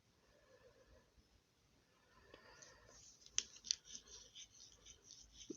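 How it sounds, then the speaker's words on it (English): Scissors snip through fabric while shorts are cut, a few faint close crisp cuts over a low background hiss. "Then I cut off the excess."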